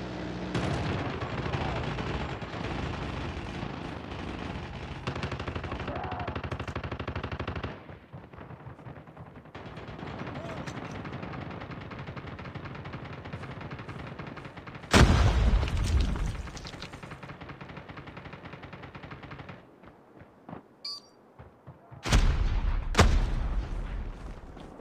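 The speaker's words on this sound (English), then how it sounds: "Sentry gun deployed." Rapid automatic gunfire from a deployed sentry gun in Call of Duty, loud and sustained, with several bursts and heavy booming blasts cutting in near the end.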